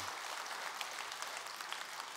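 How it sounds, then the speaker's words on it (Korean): An audience at a Sunday Buddhist dharma talk at Jogyesa temple claps together in a brief, dense burst of applause, heard from a distance and fairly faint. "그럼 박수 한번 쳐보세요"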